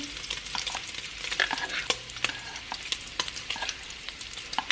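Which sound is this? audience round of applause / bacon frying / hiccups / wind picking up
bacon frying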